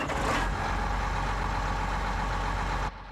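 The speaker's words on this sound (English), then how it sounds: "Let's go ahead and fire up the engine here." Case IH Axial Flow 1660 combine in Farming Simulator 19, its engine droning steadily at a loud idle from the start and cutting off abruptly near the end.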